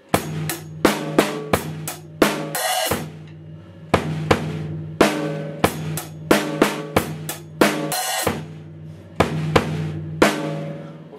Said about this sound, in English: It's sort of a 2-bar pattern repeated.